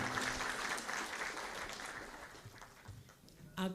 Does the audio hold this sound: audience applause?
yes